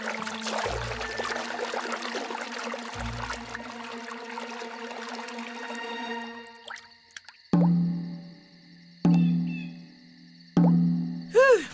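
Cartoon water drips falling one drop at a time in a ninja torture gag, several loud, evenly spaced plops ringing out against near silence after a fading musical passage.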